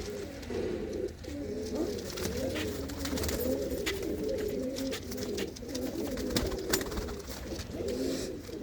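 Pigeons from the Chak Bakhtu and Ghoti Gujjran lofts coo steadily and close by, their low, throaty calls rolling over one another without pause under a constant bed of background noise.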